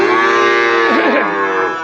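A cow or heifer at a livestock market lets out one loud, close, sustained moo that wavers in pitch near the end.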